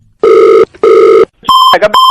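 A telephone rings loudly in two long, close bursts, then a different electronic tone beeps and warbles briefly.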